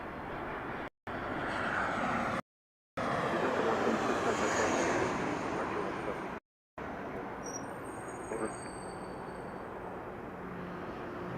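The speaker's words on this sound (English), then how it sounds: "we do have a Southwest flight coming in right now." A Southwest Boeing 757 lands at Harry Reid International Airport in Las Vegas, a broad roaring jet rush that swells and fades at a distance with brief dropouts and a faint whine late in the approach.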